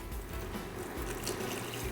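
Water and beef base poured into a pot of BBQ sauce with pureed tomatoes and ketchup, a short steady splashing pour, close and soft, no voices.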